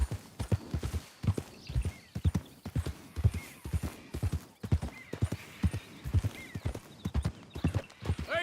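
A horse in Red Dead Redemption 2 gallops, hooves clip-clopping in a fast, steady rhythm up close, with occasional snorts and faint background sounds.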